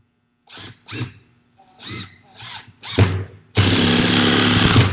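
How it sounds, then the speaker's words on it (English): A power drill drives 3-inch screws through a wooden rail into a stile of a stage deck frame, giving several short whirring bursts in a row before one long, loud, continuous run. "putting on my wood glue, then attaching my rail with 3-inch screws."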